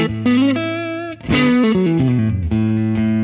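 An electric guitar is played through a Neural DSP Morgan AC20 amp plugin, giving a mildly driven tone as sustained chords and single notes ring out in a short phrase.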